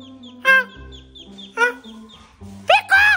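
A duck perched on a person's shoulder gives three loud, close nasal calls spaced across a brief quiet stretch, with faint low background sound between them.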